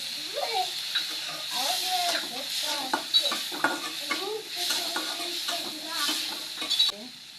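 Dried fish stirred in a frying pan in a village kitchen, a spoon scraping and clinking against the pan in a steady rhythm over a soft sizzle, close by.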